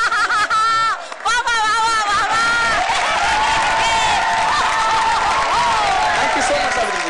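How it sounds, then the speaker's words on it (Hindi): A studio audience at a Zee TV ladies' comedy show bursts into loud, sustained applause and cheering for Savitri Kochar, with music and voices carrying over the dense crowd noise throughout. "जोरदार तालियां सावित्री जी के लिए"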